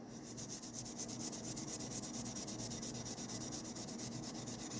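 Steel wool rubs across rusty steel in quick, even back-and-forth strokes, a soft repetitive scratching heard up close and alone.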